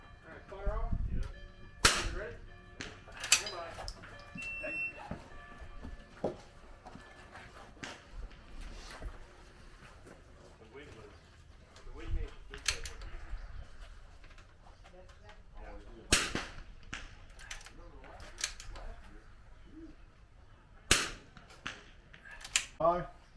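An FX22 air rifle fires repeated sharp shots at a target during a precision shooting match, crisp snapping cracks spaced irregularly, some close and some farther off, with people talking faintly between shots.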